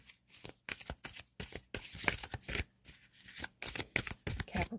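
Tarot cards being shuffled close up, a quick run of soft riffling bursts and papery slaps repeated steadily, quiet and heard alone.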